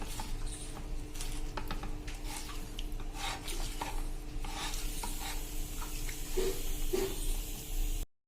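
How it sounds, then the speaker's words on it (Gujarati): Boiled baby potatoes being stirred and coated with red chilli paste, a close, continuous soft scraping and squelching that runs steadily throughout with no voices. "હવે આપણે આ બટેટામાં મિક્સ કરી લેશું અને એને આપણે આ પેસ્ટથી કોટેડ કરી દેશું।"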